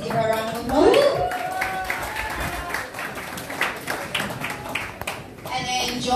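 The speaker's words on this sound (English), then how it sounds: "Please give her a round of applause." Audience applause for a City of Glasgow College manager taking the stage at a Glasgow Black History Month 2019 event, a dense patter of many hands clapping steadily throughout, with a voice speaking over the start.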